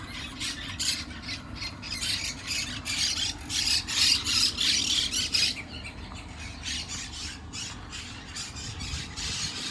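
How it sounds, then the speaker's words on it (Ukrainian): Parrots and peacocks call at a farm: harsh, raspy squawks come in bursts that peak in the middle, over a steady background murmur. No one speaks. "Папуги та пави."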